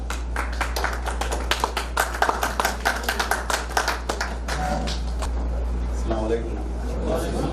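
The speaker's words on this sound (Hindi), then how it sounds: "भरपूर तालियों में इस्तकबाल कीजिए जनाब बिलाल ताहिर साहब" Audience members at a mushaira poetry gathering clap in a brisk burst of applause welcoming a poet, the claps fading as a voice starts speaking over a low steady hum.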